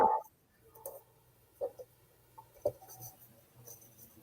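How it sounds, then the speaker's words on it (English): Paper being trimmed for a handmade Mother's Day card, heard as a few soft, separate cutting clicks and light scrapes spread over a few seconds in a quiet room. "So I'm going to trim a little bit"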